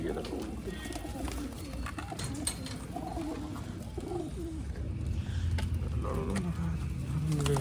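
Pigeons coo in repeated soft, throaty calls, near and moderately loud, while someone talks over them and other birds murmur in the background.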